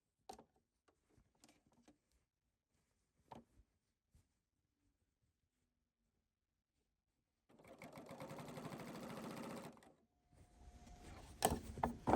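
Sewing machine stitching binding onto a quilted fabric piece, a close steady mechanical whir running about two and a half seconds, stopping, then resuming briefly after a few soft handling clicks and taps near the start.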